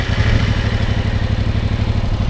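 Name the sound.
motorcycle engine started and running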